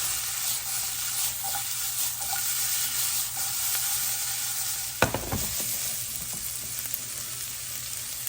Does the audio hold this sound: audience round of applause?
no